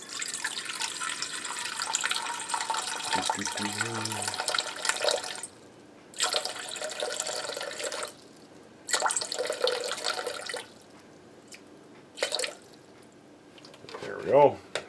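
Water pours into a bowl in several separate bursts, with gaps of quiet between, and a brief clink near the end.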